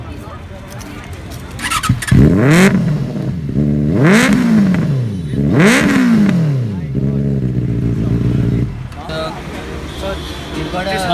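A Royal Enfield Continental GT motorcycle with an aftermarket Exile 55 exhaust revs hard three times, each rise and fall loud and close, then settles into a rumbling idle with a brief voice near the end.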